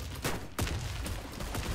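Shotgun blasts from the first-person shooter Warface, a few sharp, loud shots spaced irregularly in a short burst, with no one speaking.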